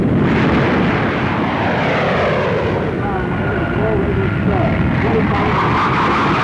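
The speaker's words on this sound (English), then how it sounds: "umont, Chief Test Pilot of English Electric, pilots the latest version of the Canberra jet bomber, which is now going into production for the RAF." An English Electric Canberra jet bomber flies past with a loud, steady engine roar filling the whole stretch, a broad rushing drone with faint shifting tones inside it.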